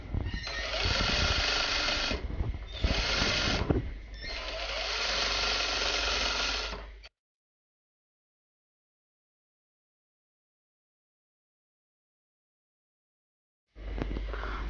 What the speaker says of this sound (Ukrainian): Строчка має бути широка і прокладаємо строчку.